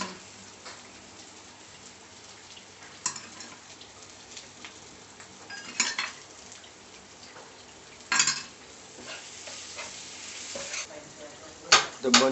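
A pav bun fries in ghee on a hot pan with a steady, close sizzle, broken by occasional scraping stirs and clinks of a utensil against the pan.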